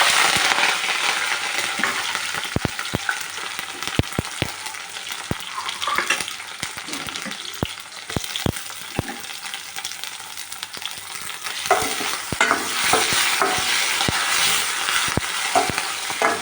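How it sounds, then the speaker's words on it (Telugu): Tempering spices crackle and pop in hot oil in a pan: mustard seeds, dried red chilies, curry leaves and onions for mango dal. A steady frying hiss continues, with sharp spattering pops scattered throughout and growing busier toward the end. "కొన్ని మాత్రమే పోపులు వేస్తున్నాను"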